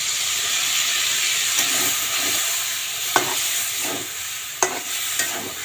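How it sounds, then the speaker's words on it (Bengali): Pointed gourd fried until red sizzles in a pan as mustard paste goes in and is stirred, a steady close hiss broken by a few sharp spatula clicks against the pan. "এই যে এখন সর্ষে বাটাটা দিয়ে দেব"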